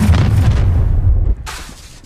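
Confringo spell blast in Hogwarts Legacy, a loud, deep boom rumbling for over a second before cutting off into a fainter crackling tail, no speech.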